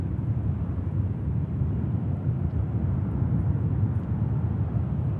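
A Ryanair airliner landing at Manchester Airport gives a steady, broad low roar that holds evenly throughout, distant and unbroken, with no voices.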